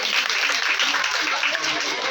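Steady applause from a gathered audience at a spiritual discourse, many hands clapping at once in a dense, continuous wash that holds evenly throughout.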